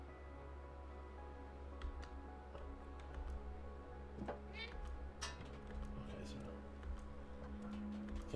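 A cat meowing in the video game Stray, several short meows over a quiet ticking game soundscape with steady background hum.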